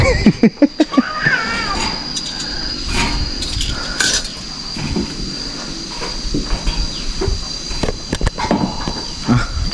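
A cat meows several times, loud and close, over a steady outdoor hum and rustling, with faint footstep-like knocks and some background voice.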